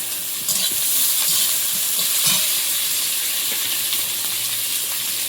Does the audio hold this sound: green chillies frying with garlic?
yes